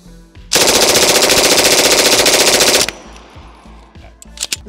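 A rapid string of gunfire runs for about two seconds at a silhouette target 30 yards away, a loud continuous burst that stops abruptly, followed by quieter shuffling and a few light knocks.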